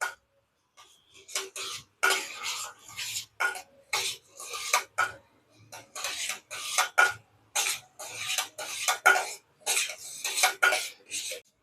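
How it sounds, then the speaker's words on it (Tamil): Urad dal stirred in a pan with oil, a spatula scraping the metal in quick rhythmic bursts that repeat over and over, close and clear, no talking. "நம்ம லாஸ்ட் வரைக்கும் கிண்டிக்கிட்டே இருக்கணுங்க"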